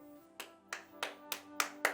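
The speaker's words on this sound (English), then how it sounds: "Clap for yourself, Chima." About six slow, sharp hand claps, evenly spaced and fairly close, standing alone against a quiet room with a faint hum underneath.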